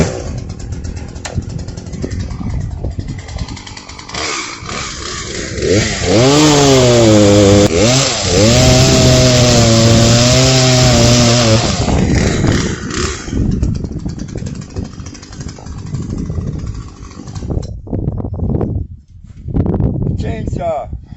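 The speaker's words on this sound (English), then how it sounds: "Chainsaw." A Poulan PL3314 33cc two-stroke chainsaw revs up loudly to a high, buzzing whine that holds for several seconds, then drops away. Voices and other rough background noise run throughout.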